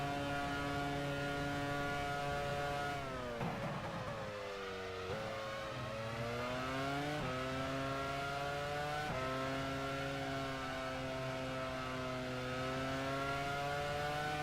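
Racing car engines in the game F1 Challenge 99-02, at the Spanish Grand Prix, drone continuously, their pitch dipping and climbing again as gears change, a steady mechanical roar with no talking.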